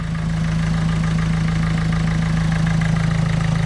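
A Renault Twingo 2 with a 1.5 dCi diesel engine idles close up, giving a steady, rhythmic low rumble with a slight knocking pulse and no voices.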